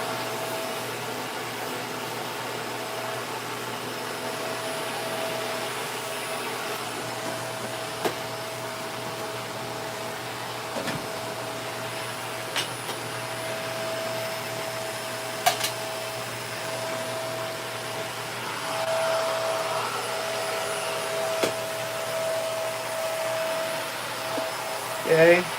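A vacuum cleaner running steadily in a small bedroom studio, sucking up tiny screws and a nut; a constant close whine with a few faint clicks and rattles as the small parts are drawn in.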